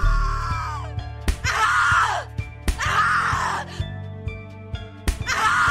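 A woman screams repeatedly in the horror video game The Cat Lady, long anguished shrieks and groans broken by sharp slaps or impacts, loud and close.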